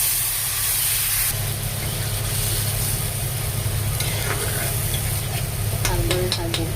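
Spice paste frying in hot oil in a pan, a steady close sizzle and hiss with stirring scrapes and a few sharp clinks near the end, with no voices.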